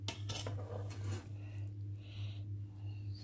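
A spoon scrapes and clinks against a pot while folding food colours into rice for homemade zarda, heard as soft metallic taps and scrapes over a steady low hum.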